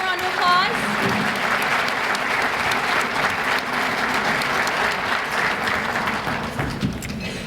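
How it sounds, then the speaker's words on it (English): Sustained applause from a luncheon audience at a Bay Area Chamber of Commerce community event, dense and steady throughout with a brief voice near the start. "Can you please give them a round of applause?"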